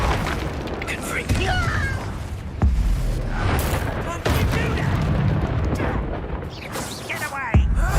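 Confringo spell blasts in Hogwarts Legacy, several sharp booming hits spaced a second or two apart amid crackling combat effects, with voices talking over the fight.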